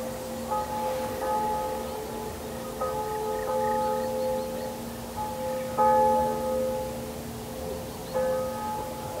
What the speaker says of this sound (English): That was the church bell down in the village.